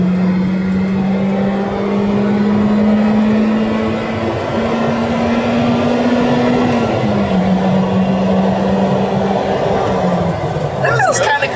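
A stock Honda Integra GSR with stock exhaust and intake pulls hard in third gear, engine note rising steadily from inside the car as it climbs through the revs before easing off near the end.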